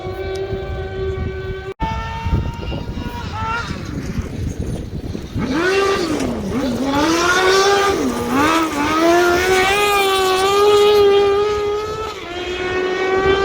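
A Semog X-Cart crosskart races up a hill climb, its high-revving engine whining loudly and swelling as it nears, with quick throttle lifts through the corners and a commentator talking.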